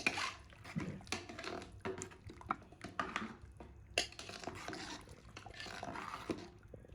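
A spoon scrapes and clatters against a metal pot while spices are stirred into beef bong nihari, giving repeated close knocks and scraping strokes over a low bubbling simmer, with no talking.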